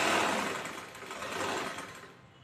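A sewing machine runs steadily, stitching a quarter-inch folded outline along the outer edge of a chudithar in black thread, with a dense continuous whir that eases off slightly near the end.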